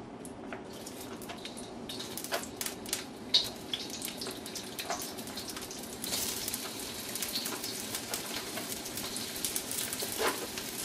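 Onion frying in canola oil in a wok over medium heat, a steady broadband sizzle with crackling pops throughout, no talking.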